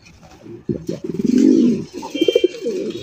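Pigeons coo in close, soft throaty rolls, a few breathy pulsing calls rising and falling over about three seconds.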